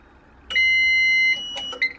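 A heat press timer gives a loud electronic beep that holds for nearly a second, followed by a short second beep, in an otherwise quiet room.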